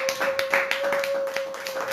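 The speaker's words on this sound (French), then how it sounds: "Est-ce qu'on peut encore une fois applaudir le Seigneur?" Church congregation clapping in rhythm to praise the Lord, a run of moderately close, uneven claps over a steady sustained tone, with no talk.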